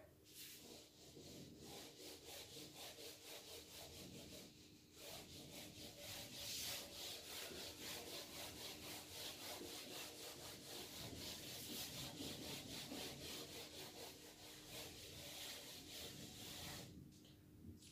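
Writing is rubbed off a classroom board in continuous back-and-forth strokes, a steady scratchy rasp that is close and fairly loud and pauses briefly twice.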